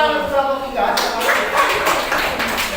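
Applause from a classroom group welcoming the next team, a dense burst of clapping rising after a brief spoken voice at the start and continuing steadily throughout.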